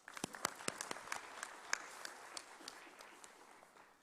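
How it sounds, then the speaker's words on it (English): Scattered applause from a policy dialogue audience at a conference on drug susceptibility testing, offering a vote of thanks; sparse, moderately distant claps fade gradually over about four seconds. "I request the August gathering to cast your vote with a big round of applause"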